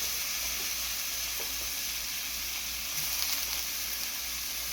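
Pork fries in a pan for a moringa and opo squash dish, giving a steady, close, even sizzle and hiss that carries on without a break and with no talking.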